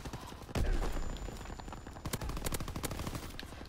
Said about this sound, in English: Oh, they're shooting it down.